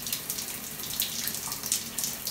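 Steady, full hiss of shower water running through a Delta 17 series mixing valve turned to full hot, continuous and fairly loud throughout.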